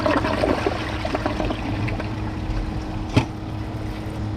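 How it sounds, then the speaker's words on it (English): A Kohler Highline Class 5 toilet on its second flush, a steady rushing swirl of water throughout, with a brief louder clunk or gurgle near the end. "let's see how it does on the second flush"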